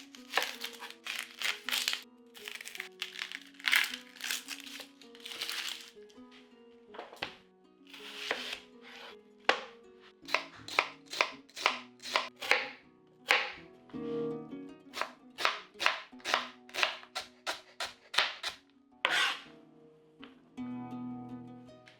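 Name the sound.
knife dicing an onion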